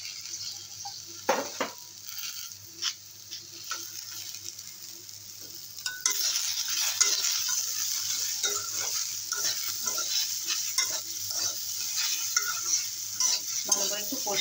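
Okra with salt, turmeric and green chilli sizzles in a pan for a sour fish-roe curry, with a spoon scraping and stirring as the frying grows louder and steadier about halfway through.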